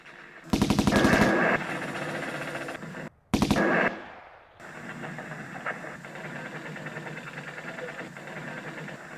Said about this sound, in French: une rafale de mitrailleuses l'abat